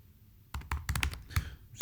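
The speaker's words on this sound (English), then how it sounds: "So I can start typing a message here." Someone types on a computer keyboard, a quick, uneven run of close, crisp key clicks that starts partway in after near silence, with no talking.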